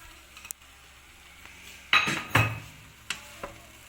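A beaten omelette goes into a pan of frying egg fried rice over medium heat, with a couple of metallic spatula scrapes and clinks against the pan, short and fairly quiet.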